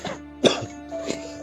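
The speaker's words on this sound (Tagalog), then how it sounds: "inuubo pa oh." Two short coughs, a sharp one followed by a softer one, close and fairly loud, with a faint steady hum underneath.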